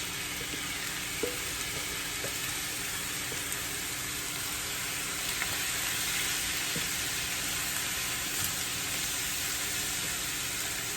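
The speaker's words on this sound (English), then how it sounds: "Now that our bacon is nice and browned, I'm going to add our package of spinach." Spinach cooks in a pan with browned turkey bacon for a quiche, giving a steady, soft hiss of frying with faint clicks of stirring throughout, no one talking.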